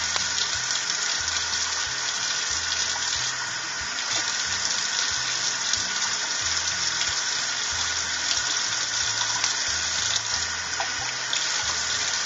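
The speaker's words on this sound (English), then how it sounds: "The first thing I do is under hot water is I just like to scrub it out a little bit." Hot water runs steadily from a kitchen faucet as a potato is scrubbed under it, a constant loud hiss and splash with no speech.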